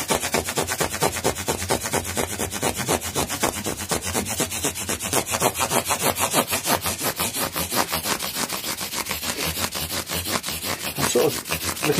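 A guitar body is sanded and polished with rapid, even back-and-forth rubbing strokes, a close, steady rasping rhythm that continues without pause.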